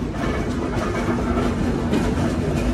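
The Sundarban Express intercity train (726), running from Kushtia to Khulna, gives a loud, steady rumble with a low rolling clatter heard from on board, and no one speaks.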